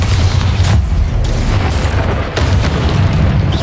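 Bombarda blasting spell cast in the Hogwarts Legacy video game: a loud, sustained rumbling boom with heavy low-end roar and a few crackling bursts, close and dense throughout.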